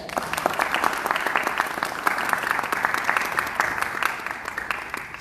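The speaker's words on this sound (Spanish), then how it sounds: "Un aplauso por favor para él." An audience at a leadership talk claps steadily for several seconds, a dense patter of many hands close and even in loudness, with no speech over it.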